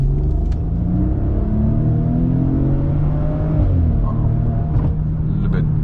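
A car engine rumbles loudly and steadily, its pitch rising and falling as it revs, with a voice faintly audible in the background.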